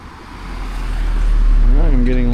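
Road traffic on High Street in Bourton on the Water, a steady close vehicle rumble that swells as a car passes, with a voice briefly audible at the end.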